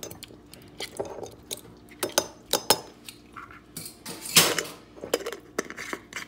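Honey being stirred into a homemade healthy salad dressing, heard as a run of quick, close spoon clinks and scrapes against a bowl or jar, with no talking.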